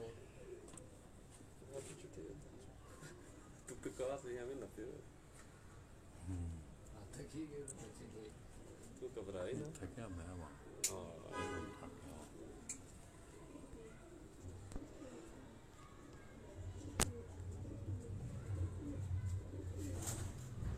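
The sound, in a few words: pigeons cooing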